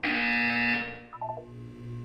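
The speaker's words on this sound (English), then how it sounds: "You will hear a buzzer." A harsh electronic buzzer from the Portal 2 video game's wellness exercise sounds loud and steady for about a second, then fades into softer tonal game sounds.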